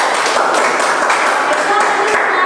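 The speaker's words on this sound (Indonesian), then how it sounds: "kasih tepuk tangan buat kelompok 2" A classroom of students claps for a group after its presentation, a brief ripple of hand claps heard beneath a teacher's ongoing voice.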